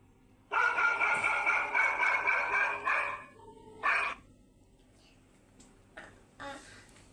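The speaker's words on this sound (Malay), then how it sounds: "ada pemburu lepaskan berapa ekor anjing untuk mencari mangsa" Several dogs bark as a sound effect during a children's story reading about a hunter releasing dogs to track prey; a loud, continuous burst of barking is followed by a shorter bark and a few faint yips.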